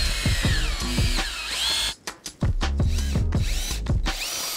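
A power drill driving screws into a wooden shelf of a DIY fish tank rack, with loud whining bursts that rise and fall, a brief pause, then several more short revs close by.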